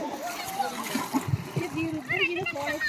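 Water is poured and splashes and spatters in quick bursts, close by, during a timed water-transfer game, while several voices, including children, talk and call out over it.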